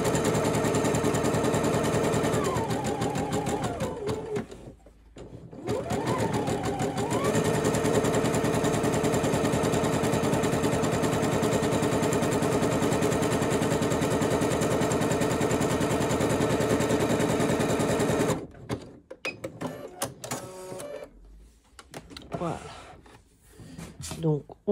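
A domestic sewing machine runs a long continuous zigzag stitch along a seam of a men's boxer short, steady mechanical whirring with a brief pause midway, then stopping into quieter handling noises near the end.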